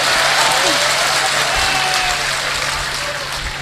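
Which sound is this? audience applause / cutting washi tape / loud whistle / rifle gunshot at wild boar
audience applause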